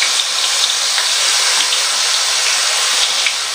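Dough frying in hot oil gives a loud, steady, close-up sizzle and hiss that holds without a break, with no talking.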